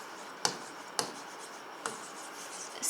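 Chalk or marker writing on a board during a class 10 maths lesson on polynomials: soft scratchy strokes with a few sharp taps spaced through the quiet stretch, close and fairly faint.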